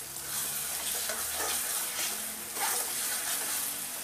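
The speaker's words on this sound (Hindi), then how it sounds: "ये 2 टमाटर की प्यूरी है ये भी डाल रही हूँ, ताकि हमारा ग्रेवी मस्त हो जाए।" Tomato puree made from two tomatoes is stirred into spices frying in a pan for a Rajasthani moth bean gravy, giving a soft continuous sizzle with gentle scraping and stirring close by, no talk.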